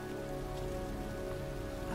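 Steady heavy rain pours down outdoors in a cold night setting, a dense continuous patter drumming on surfaces, loud and close with no voices.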